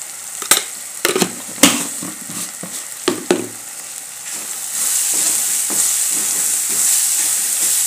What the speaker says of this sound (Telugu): అదైతే కొంచెం వేగిపోయినాక కారం కూడా వేసేస్తున్నాను